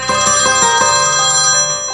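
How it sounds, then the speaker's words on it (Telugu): A mobile phone ringtone plays loud and close, a bright repeating electronic melody with chiming bell-like tones and no voices over it. "సరే ఆ ఫోన్ ఎవరు చేస్తున్నారు చూసేసిపో"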